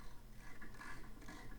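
A ratchet turns on the 15mm brake caliper bolts of a Corvette C7 Stingray, giving a quiet, short run of rapid metallic clicking in two small bursts, close by and alone.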